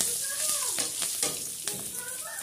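Nigella seeds and green chillies hit hot oil in a pan for a Bengali pabda fish curry with brinjal, a bright crackling sizzle with sharp pops and stirring, close and continuous, with a voice briefly over it.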